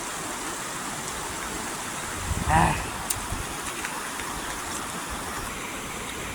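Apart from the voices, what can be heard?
rain falling outdoors by a river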